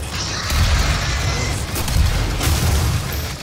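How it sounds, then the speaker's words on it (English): Demons exploding in the Doom video game amid rocket fire, heard as heavy, continuous low booming rumble with scattered bursts, loud and sustained without a clear break. "I didn't know you guys can explode."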